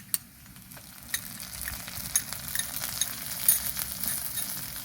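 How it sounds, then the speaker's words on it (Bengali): Cumin paste frying with browned onions in a pan, a quiet crackling sizzle broken by sharp spoon taps and scraping stirs against the metal. "জিরে বাটাটা একটু ভালো করে পেঁয়াজের সাথে কষিয়ে নেব।"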